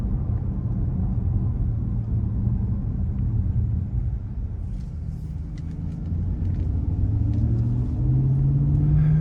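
A 2019 Nissan Murano Platinum cruising on the road, with a steady low engine and road rumble heard from inside the cabin and a gentle rise in engine pitch toward the end.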